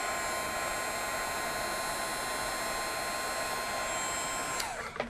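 A heat tool blows a steady loud whir with a high whine while it melts Stampendous embossing powder on a craft mat. It runs unbroken for several seconds, then cuts off with a few small knocks.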